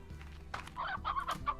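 Chickens in the Slime Rancher video game cluck in short, bursty calls, several overlapping squawks rising and falling over a soft background, with no one talking.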